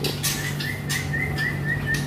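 A magpie-robin sings outside its cage in short, rising and gliding whistled phrases, clear and fairly close over a steady low background hum.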